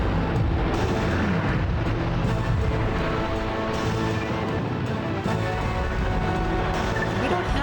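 Artillery fire in the Ring of Red war game, a dense continuous rumble of booming blasts filling the whole stretch, loud and steady without a clear break.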